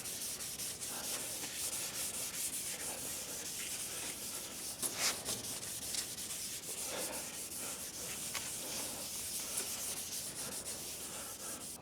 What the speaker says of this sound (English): we're all ready to take a Scotch-Brite. I just like to go over it just a little bit